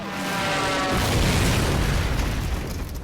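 A loud mortar blast from a Medal of Honor Pacific Assault beach assault on a reef and pier rolls into a sustained, heavy rumbling roar that stays close and dense for several seconds.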